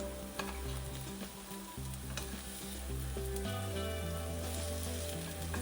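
Jaggery melting with banana in a hot pan gives a steady, close sizzle and bubbling fry, with a low tonal hum running underneath throughout.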